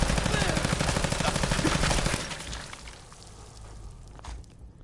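Rapid automatic gunfire from a weapon in Fallout 4, a fast, continuous burst of shots for about two seconds that then stops, leaving quieter game sounds behind.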